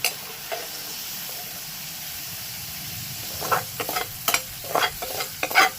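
Small chuno fish frying in a pan: a soft, even hiss of hot oil for a few seconds, then a run of close, sharp spatters and scraping stirs toward the end.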